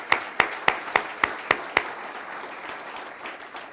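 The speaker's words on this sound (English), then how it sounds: "let's clap for them for doing a great job" An audience clapping at an economy event, opening with several loud, evenly spaced rhythmic claps close by, then fading into softer scattered applause.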